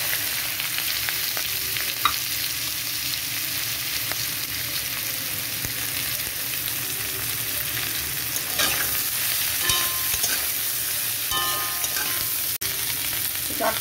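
Teasel gourd (kakrol) pieces fry in oil with onion and garlic, a continuous loud sizzle with occasional scrapes and knocks of a spatula stirring the pan up close.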